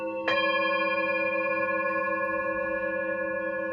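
A single struck bell gives one sharp strike, then a long, clear, ringing tone with several steady overtones that sustains and slowly fades.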